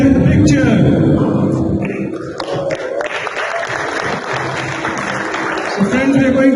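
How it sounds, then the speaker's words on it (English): Large conference audience at a retina congress in a hotel hall cheering and applauding, a loud sustained wash of clapping and shouts that fills the whole stretch, with a voice over a public-address system at times. "Give me a big cheer."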